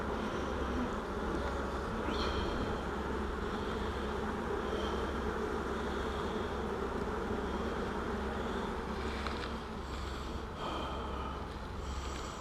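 Bees in a beehive give off a steady, dense buzzing hum, close and continuous throughout, with occasional louder individual bees droning past.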